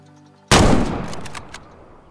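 A single loud hunting rifle shot in the video game Way of the Hunter cracks sharply, then rings out in a fading echo.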